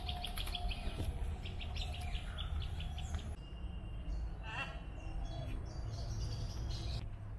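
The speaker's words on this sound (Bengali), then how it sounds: "এখানে ছোট ছোট পাখি।" Small birds chirp and tweet in bursts in the Bethuadahari forest wildlife sanctuary, the calls moderately near over a steady low outdoor rumble, with faint voices in the background.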